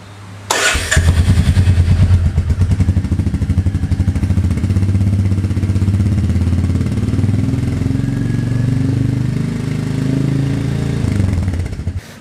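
A 2021 Royal Enfield Meteor 350 motorcycle engine cranks and fires up, then settles into a loud, steady thumping idle close by, with a brief revving swell before it shuts off.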